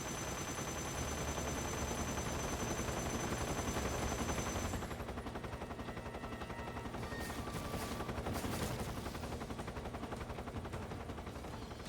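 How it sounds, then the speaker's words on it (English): Rapid video game gunfire aimed at the player, a steady dense rattle of shots over constant loud game noise, lasting throughout with slightly sharper bursts toward the end. "something's shooting at me"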